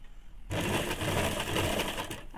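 A sewing machine stitches a ladies' pant, starting abruptly and running in a fast, steady mechanical whir for about two seconds, close and loud, before slowing at the end.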